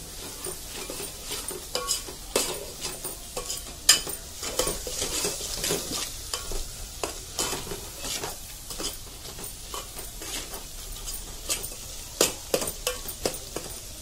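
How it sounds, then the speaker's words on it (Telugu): Chicken for a Telangana-style curry frying in a pan until light brown, with steady sizzling under repeated scraping and clinking stirring strokes from a utensil against the pan, close up and without talk. "మళ్ళీ దీన్ని ఇట్లా మంచిగా కొంచెం లైట్ బ్రౌన్ కలర్ వచ్చే వరకు వేపుకోవాలి"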